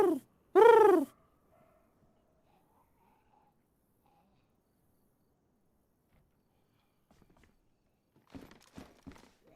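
A person imitates a pigeon with two loud, close, breathy cooing calls at the start, followed by near silence and then a few faint, scattered knocks and sounds toward the end.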